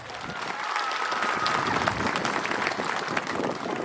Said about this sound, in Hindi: विद्युत को थोड़ा ताली दे दो।